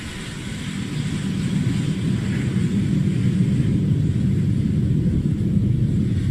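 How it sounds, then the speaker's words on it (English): SpaceX Falcon 9 rocket lifting off with ten Iridium satellites aboard, a steady deep roaring rumble that swells in the first second and then holds loud and continuous, heard from a distance. "We had successful liftoff of the Falcon 9"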